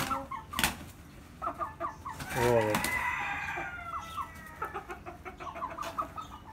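Aseel hen clucks in short, repeated bursts near her chicks, with a louder squawking flurry midway, set against farmyard background noise while a person talks quietly.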